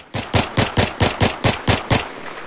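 Battlefield 3 gunfire aimed at a MAV drone, a loud close burst of about nine rapid, evenly spaced shots followed by a short tail.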